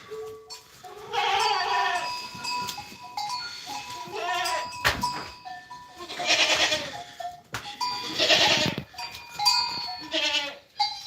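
A newborn roan kid goat of a pure field breed on a Spanish farm bleats in repeated high, wavering cries, close and fairly loud, separated by short pauses and occasional clatter.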